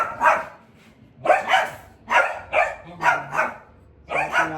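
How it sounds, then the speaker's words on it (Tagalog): Dogs barking at a house, five or six loud close barks in a quick, uneven series, with brief gaps between them. "Sa mga aso nila guys."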